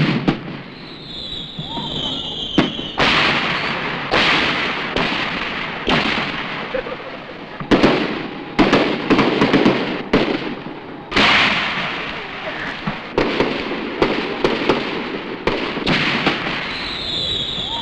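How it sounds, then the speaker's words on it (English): A festival fireworks display in Hyde Park crackles and booms with irregular bursts, one after another, over a continuous hiss and a murmuring crowd in the distance. "a festival firework display in Hyde Park, designed by the well-known artist John Pipe"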